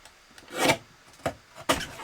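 Paper trimmer blades slicing card stock to leave a quarter-inch white border for a mixed media card, three short rasping cuts with the longest first, close and moderately quiet with no talking.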